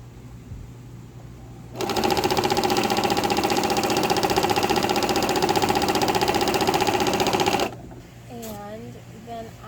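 A sewing machine straight-stitches a tea towel, a fast, even mechanical whirring and clatter that runs steadily for about six seconds at close range before stopping, with quiet handling noises before and after.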